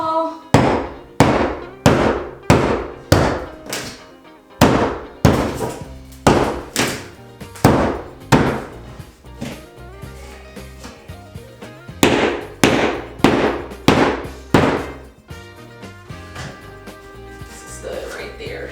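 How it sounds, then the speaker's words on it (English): Repeated heavy hammer blows knock out a bathroom wall above a bathtub during a 1990s bathroom renovation, loud and close in rapid bursts of sharp impacts with brief pauses, with short ringing decay after each hit. "About to start hitting this wall."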